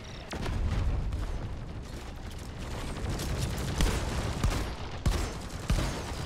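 Tube grenade explosions in the video game Elimination: Carnal Wrath, a dense barrage of blasts with sharp booming bursts standing out toward the end over continuous loud combat noise.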